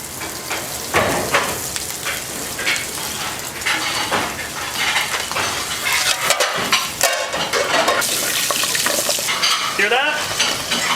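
Pig's foot meat fries in a pan with a dense, constant sizzle and crackle, punctuated by scraping and stirring sounds, loud and close with no talking.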